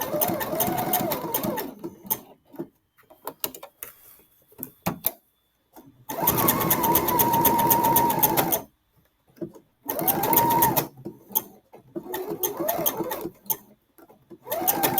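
Sewing machine fitted with a size 14 needle, stitching thick khaki work pants: loud, close, rapid mechanical whirring in several bursts of different lengths, separated by quiet pauses with faint handling sounds.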